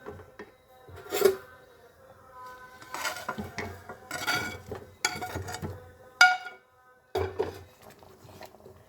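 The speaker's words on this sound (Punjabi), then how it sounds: "ਹੁਣ ਆਪਾਂ ਇਹਦੇ ਵਿੱਚ ਪਾ ਦੇਾਂਗੇ ਆਲੂ" Potatoes tipped into a pan and stirred in for Punjabi palak dum aloo, giving several bursts of clattering metal and scraping spoon-on-pan strokes, with brief clinks and rasping pauses between, close and fairly loud.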